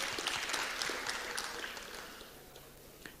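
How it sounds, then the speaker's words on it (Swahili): Audience clapping at a finance talk during the Harvest Con 2022 conference, moderately distant and scattered, thinning out and fading toward the end. "Mpigeni makofi."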